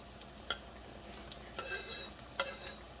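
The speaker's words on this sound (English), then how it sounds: "Give those a little stir." Spruce tips and chives stirred in a pan, with faint scraping and light clinks of a utensil against the pan three or four times over a soft, steady background hiss.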